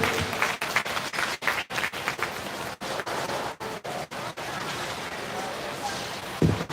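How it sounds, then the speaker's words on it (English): Applause for 4-H and FFA youth exhibitors at a county fair market sheep show, a steady mid-distance patter of many hands clapping that holds for several seconds with a few brief dips. "give these kids a round of applause"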